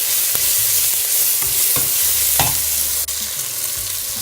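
Dry spices with ginger and garlic fry in a hot pan for masoor dal khichri, giving a steady sizzle broken by a few sharp scrapes and clinks of stirring.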